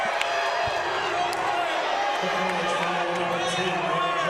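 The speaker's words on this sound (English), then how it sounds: "The fans here at DeVos Fieldhouse are not shy about letting the referees know their distaste in that call." Basketball fans in a college arena crowd voicing loud, sustained disapproval of a referee's offensive foul call during a women's tournament semifinal, a dense roar of many voices with scattered shouts and whoops throughout.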